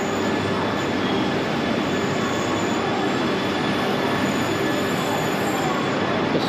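A Japanese bullet train rumbles into a station continuously with dense rail noise and a faint high squeal from the wheels, steady and fairly loud throughout.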